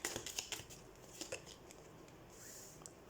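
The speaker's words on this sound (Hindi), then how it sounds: "तो सबसे पहले हम कार्ड शफल कर लेते हैं।" Tarot cards being shuffled by hand make faint, quick papery flicks and soft slaps in brief irregular bursts, close but very quiet, with no talking.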